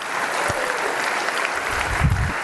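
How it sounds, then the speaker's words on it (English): Applause from an audience at a meeting, a steady wash of clapping with a couple of low thumps mixed in. "so if you could please you're okay to applaud"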